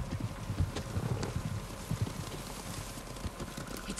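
Kenji's horse in the Ghost of Tsushima video game, its hooves clip-clopping in a steady rhythmic gallop over soft ground, fairly quiet and continuous against a low rumbling background with no talk.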